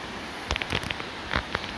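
Powerful river water on the River Gelt rushes through a rocky gorge, a steady broadband roar with scattered splashy bursts, heard close and without any talking.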